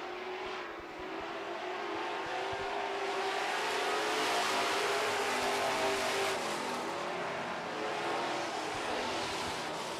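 Super stock race cars in a heat race on an oval track, a loud continuous roar of several engines at speed with no distinct pass-bys standing out.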